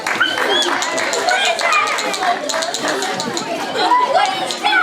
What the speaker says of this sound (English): Big round of applause, Freda, please